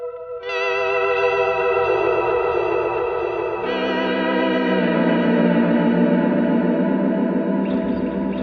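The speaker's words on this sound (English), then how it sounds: "if I wanted to add vibrato now to my kind of shoegazy ambient whale noise stuff" Electric guitar run through a Neural DSP plugin controlled from a Line 6 Helix plays sustained shoegaze-style ambient chords with vibrato, washed in chorus and distortion, loud and continuous with the tone shifting midway.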